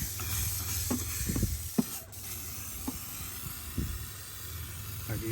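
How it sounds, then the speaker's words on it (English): Engine bay cleaner hisses from a spray nozzle over a car's engine bay, fuse panel and electronics, in several short close bursts over a steady low background hum. "Like you see, I'm spraying on electronics."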